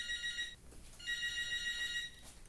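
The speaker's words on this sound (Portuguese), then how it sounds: "telefone tá chamando" A telephone rings indoors with a bright electronic trill in two bursts separated by a short pause, moderately loud, with no one speaking over it.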